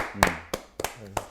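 A few sharp hand claps ring out, four separate smacks spaced unevenly over about a second, close by, with speech briefly mixed in.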